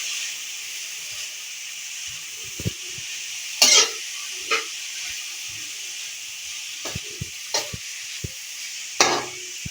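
Boiled chicken, cooked with salt, cinnamon and cardamom, gets mixed in a pan with a spoon, giving scattered knocks and scrapes over a steady low sizzle and hiss.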